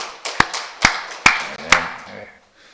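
Four sharp, evenly spaced hand claps ring out from a church congregation at a Sunday service, each decaying with a short echo in a reverberant room, followed by a faint murmur.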